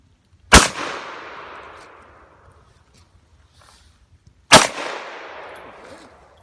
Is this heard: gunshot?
yes